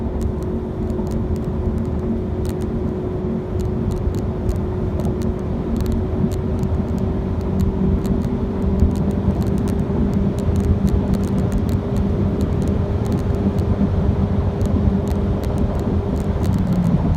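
A 2018 Ford C-Max hybrid accelerates hard from 55 mph, its engine holding a steady, loud drone with a slowly rising tone and constant road and wind roar, heard from inside the car with no talking.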